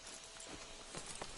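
Horse hooves clip-clopping in the Red Dead Redemption 2 video game, a steady muffled walking rhythm set against a constant noisy background, with a couple of slightly firmer steps near the end.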